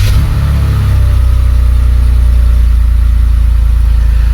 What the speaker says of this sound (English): the first thing I want to do is to start the engine